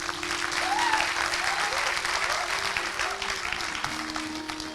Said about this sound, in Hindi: मैं चाहूंगा कि एक बार बहुत जोरदार तालियों से स्वागत करें